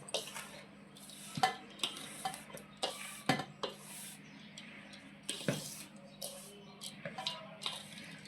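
A spoon scrapes and stirs a sesame laddu mixture in a metal pan, giving repeated close scraping strokes in an irregular rhythm over a faint background hum.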